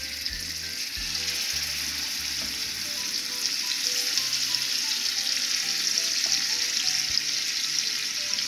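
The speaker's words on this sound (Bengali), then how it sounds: "মাছটার একটু হলুদ লবণ মাখাইয়া হালকা ভাজি দিব।" Kangla fish rubbed with turmeric and salt fries lightly in a pan, a continuous bright sizzle with occasional soft pops and faint running water, close by, no talking.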